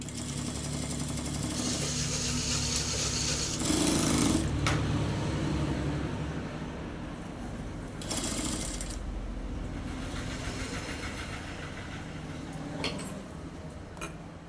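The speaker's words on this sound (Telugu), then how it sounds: "ఇప్పుడు నేను ఇక్కడ నుంచి ఇలానే కుట్టు వేసుకుంటూ వస్తున్నా" A sewing machine stitches a blouse seam in a rapid mechanical whir, running in bursts that stop and restart, each with a short clack between runs, fairly close and with no talking.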